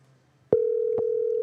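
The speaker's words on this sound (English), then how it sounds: "We're going to give him a call here and see if he answers his phone there." A telephone dial tone starts abruptly after a near-silent moment and holds steady and loud as a call is placed, with faint clicks around its start.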